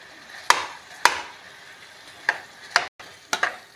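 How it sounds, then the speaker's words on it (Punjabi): Paneer is mashed in a pan with ghee and spices, a spatula knocking sharply against the metal in a handful of separate taps over a faint background sizzle. "ਪਨੀਰ ਨੂੰ ਆਪਾਂ ਚੰਗੀ ਤਰ੍ਹਾਂ ਵਿੱਚ ਮੈਸ਼ ਕਰ ਦਾਂਗੇ"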